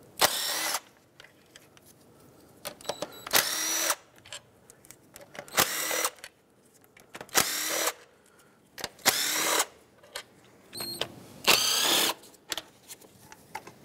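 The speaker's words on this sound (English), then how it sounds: "there are several 10mm bolts that go around this whole valve cover and hold it down. I'm just going to start at one corner, work my way around." A power tool spins off 10mm valve cover bolts on a 1997-2003 Lexus ES300, giving about seven loud, close whirring bursts of a second or so each, separated by quiet pauses.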